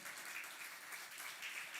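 A church congregation applauds steadily at a Sunday service honoring fathers, a faint, even wash of many hands clapping with no break.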